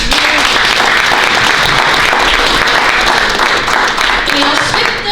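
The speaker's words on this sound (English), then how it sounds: "Big round of applause." A large crowd applauds loudly and continuously at a Black History event in Canada, a thick wall of clapping that holds evenly for the whole stretch.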